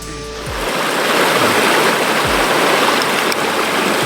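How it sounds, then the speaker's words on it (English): Hatchet Creek in Northern California, a clear trout stream, rushes loudly and steadily up close, a broad continuous wash of flowing water with no voices. "So we're going to head down to the creek right now and show you how easy it is to access this creek."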